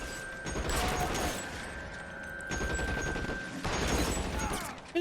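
A Tommy gun fires in L.A. Noire, rapid bursts of automatic gunfire in two or three long volleys separated by short pauses, loud and close, with faint voices between bursts.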